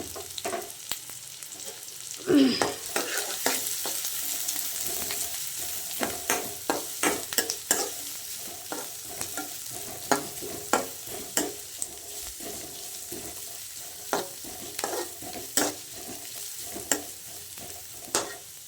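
Onions and green chillies fry in a pan with a steady sizzle, while frequent sharp scrapes and clicks of stirring break through at an irregular pace; a louder clatter comes early, and there is no talking.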